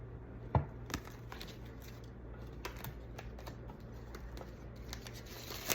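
Light, rapid clicks and soft flicks patter close by in uneven bursts, like cards being shuffled, with no voices.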